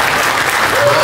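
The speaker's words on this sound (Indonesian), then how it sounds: "Saya tahu jamaah tepuk tangan biar sedihnya hilang." Dense, steady applause from an audience at a religious lecture in Madura, loud and continuous for the whole moment with no pauses.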